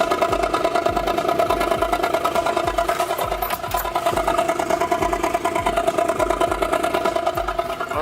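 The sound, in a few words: car engine idling roughly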